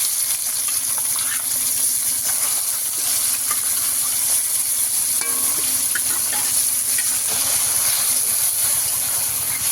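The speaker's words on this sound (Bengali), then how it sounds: "এইভাবে একটু ভেজে নেব মাছটা" Small loté fish rubbed with salt and turmeric fry in hot oil over browned onions, giving a steady, close sizzle and hiss that runs the whole time, with occasional soft scrapes of stirring.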